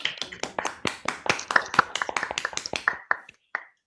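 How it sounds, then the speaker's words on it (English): Applause during an online Toastmasters club meeting: rapid, slightly uneven hand claps, around twenty in a row, close and clear, trailing off into a few scattered claps and silence at the end, with no voices. "give a big round of applause for Toastmaster Shashank"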